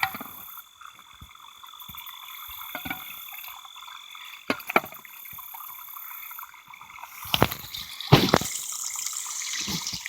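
Low-pressure water from a garden hose trickles steadily into a sediment hole and pipe outdoors, a soft continuous wash with a few louder splashy surges near the end, frogs faintly croaking in the background.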